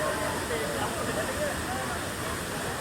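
Water pours from a height at Neer waterfall near Rishikesh, a continuous even rushing roar with no breaks.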